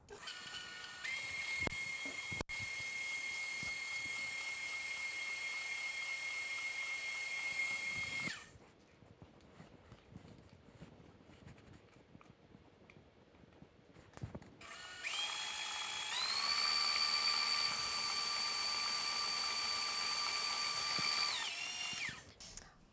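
A stand mixer whirs loudly and steadily while beating butter with brown and white sugar, pausing briefly to near silence before starting again at a higher, whining pitch.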